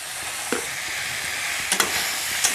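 Mustard paste being stirred into a chalta (elephant apple) pickle in a hot pan, with a steady sizzle and a few scraping knocks of the spoon against the pan.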